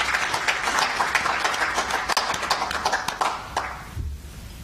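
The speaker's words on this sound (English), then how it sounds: "So I want to applaud you and join me by clapping hands for the team that" An audience at an economic summit claps in a dense, steady round of applause that fades out near the end.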